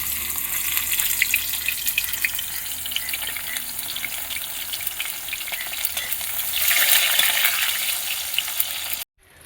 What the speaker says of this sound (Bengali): ওই তেলের মধ্যে আমি বেগুনগুলো ভেজে নেব।